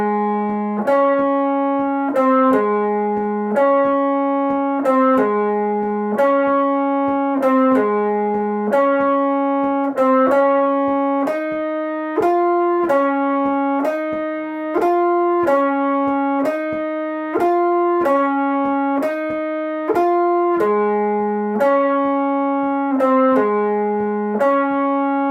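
A distorted electric guitar plays an outro riff as a steady, repeating line of bright, buzzy notes, loud and up close, with no talking.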